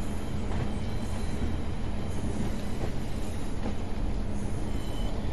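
A Class 142 Pacer diesel railbus runs on the line from Blackpool South toward Preston and Ormskirk, heard from the cab: a steady loud low rumble of engine and wheels, with faint rail clatter and wheel squeal throughout.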